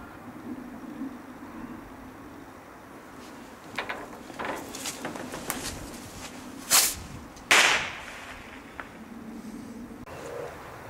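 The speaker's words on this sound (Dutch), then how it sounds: "Ik zal er een vuurpijltje afschieten." A small firework rocket is launched outdoors: after faint rustling, a sharp whooshing hiss bursts out, followed by a brief crack, with birds faintly audible in the background.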